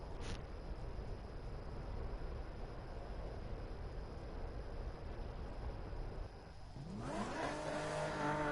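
Steady car engine drone in Need for Speed 2015, then a rising rev as the car accelerates near the end, loud and close with no talk.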